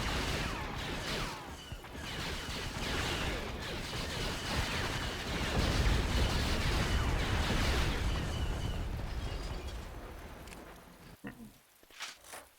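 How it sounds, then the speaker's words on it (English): Heavy orbital bombardment in the strategy game Star Wars: Empire at War, a dense, continuous roar of overlapping explosions and blasts rolling on for about ten seconds, then thinning into a few scattered later impacts. "we'll be able to just orbitally bombard them"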